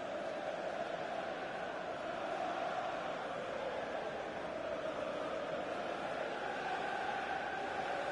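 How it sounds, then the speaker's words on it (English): A faint, steady roar of a stadium crowd in the FIFA football video game, a diffuse wash of massed voices that holds evenly throughout without standing out. "Listen to the crowd now."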